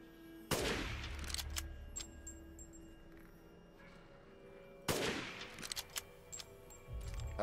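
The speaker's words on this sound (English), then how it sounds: "Let's try shooting them." Two sharp gunshots in the Resident Evil Village video game, each bursting loudly and trailing off into a reverberant decay, spaced about four seconds apart over a quiet, hollow game ambience.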